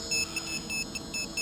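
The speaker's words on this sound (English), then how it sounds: "that's my telemetry alarm from my receiver telling me that my battery is going down" Short electronic beeps repeat in a steady pattern over a low background hum, a high-pitched low-battery telemetry alarm from the receiver of a 450 Flame Wheel clone quadcopter with NAZA controller and KEDA motors chirping several times.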